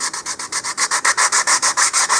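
Hand sanding of a wooden edge on an NCR Cluster Duck model rocket part, close and steady: about fourteen even back-and-forth rubbing strokes in a regular rhythm, with no voices.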